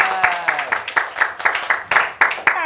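Children applauding both groups on a kids' reading-themed TV program, a loose round of distinct claps with a voice heard at the start, moderately loud.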